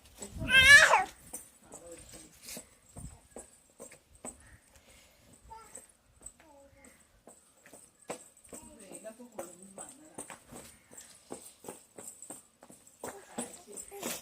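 A cat gives one loud, rising meow close by at the start. Quiet clicks and soft, scattered sounds follow, with low voices now and then.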